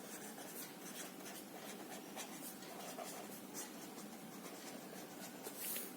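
A pen scratches across paper as an answer is written out by hand, a soft continuous rubbing with quick strokes, faint and close, with no voices.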